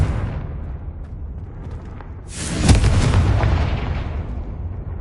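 A Confringo spell explosion in the video game Hogwarts Legacy: a loud, sudden blast bursts in midway and rolls out into a long, fading rumble over a constant game ambience.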